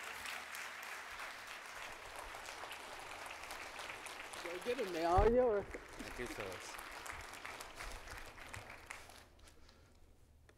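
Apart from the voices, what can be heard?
conference audience applause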